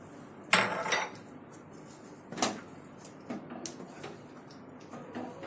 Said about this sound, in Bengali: তারপর নাড়িয়ে দিচ্ছি যাতে পুরো গ্রেভিটার মধ্যে গরম মশলার গন্ধটা যায়